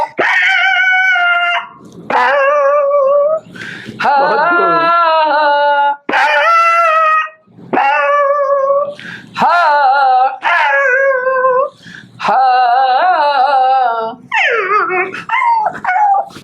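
A man imitates a dog singing and howling in a comedic podcast routine, giving loud, close, wavering howls in a run of long drawn-out phrases separated by brief pauses, with yelping, whimpering inflections and no ordinary speech.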